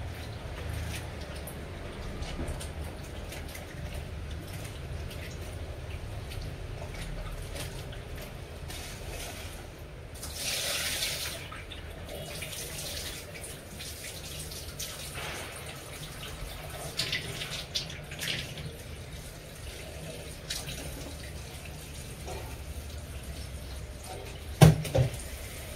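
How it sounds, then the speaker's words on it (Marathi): Okra is rinsed under a running kitchen tap, with steady close water flow splashing over the pods and a brief louder gush midway, then a few clunks near the end, no talk. "दोन तीन पाण्याने धुते मी। हे बघा असं धुते, म्हणजे कसं घाण भेंडीला बसलेलं सगळं निघतं।"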